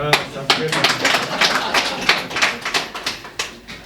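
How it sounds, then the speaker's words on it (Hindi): Scattered clapping from a small group at a water supply operation and maintenance training session, a few dozen uneven claps over several seconds, with voices murmuring underneath. "पहले तालियां।"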